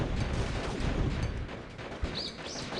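An explosion in the video game Deeeer Simulator bursts out as a dense, loud rumbling blast with a sharp crack near the two-second mark, followed by faint chirping game sounds.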